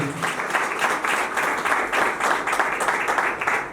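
Wedding guests applaud at a civil ceremony in a town hall in Nzeng, a steady close clapping of a small crowd that holds evenly for several seconds with no talk over it.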